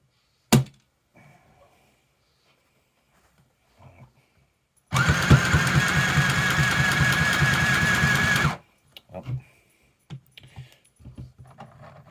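A Hobbycraft mini sewing machine runs at high speed in one loud, steady mechanical buzz of about four seconds, framed by a sharp click beforehand and scattered handling knocks and rattles afterward.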